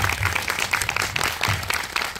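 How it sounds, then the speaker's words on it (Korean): Steady applause from an audience at a film screening Q&A, many hands clapping together in a dense, continuous patter that stays loud throughout. "공감의 박수가 많이 나오네요"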